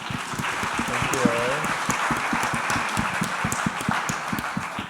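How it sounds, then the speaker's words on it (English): A crowd claps in a burst of applause, with dense, rapid hand claps lasting a few seconds and a brief voice heard within it. "Big round of applause."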